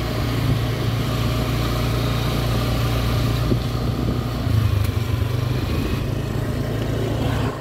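Motorcycle ridden around Puerto Galera, its engine droning steadily and loudly throughout with a constant low hum, no talk over it.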